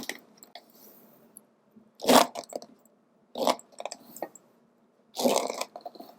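Bristles rasp and crackle through tangled hair in three short, scratchy strokes, close up, with quiet pauses between them.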